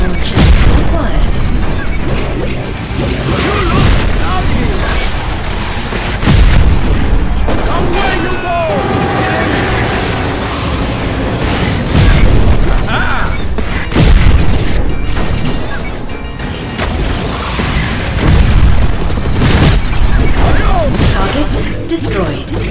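Missile launcher blasts in the Cars 2 video game boom continuously amid a dense, loud wash of engine noise, crashes and music, with game voice lines over the top.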